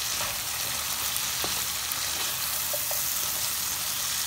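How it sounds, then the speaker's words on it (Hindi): Potato pieces go into a hot pan of mixed vegetables and are stirred. A steady, close frying sizzle runs throughout, with a few faint clinks of stirring over it. "आलू डाल देंगे और आलू को भी ऐसे चला लेंगे"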